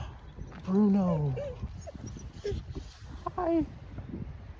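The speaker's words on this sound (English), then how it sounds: "This is my neighbor's dog." A neighbor's dog whimpers in high, wavering whines and lets out a few yips close by, over a noisy outdoor background.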